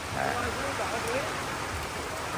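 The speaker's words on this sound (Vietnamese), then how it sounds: "Không có cái lều nào chống nổi cái sức gió sức mưa này" Heavy rain and wind at an outdoor bonsai market, where tents cannot hold against the storm, make a dense, steady roar of water pouring down, close and loud.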